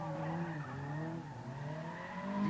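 A Ford-engined midget car at a Northern Ireland autotest, its engine revving high and whining with shifting pitch, loud and sustained, with a tire squeal as it turns.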